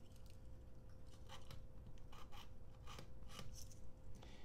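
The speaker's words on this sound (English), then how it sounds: "So one side I have the enamel scraped off, but I want to scrape it off on as many sides as I can." A blade scrapes the enamel coating off copper magnet wire for a homemade dynamic microphone, giving a run of soft, close rasping strokes with brief sharper scratches over a steady low hum.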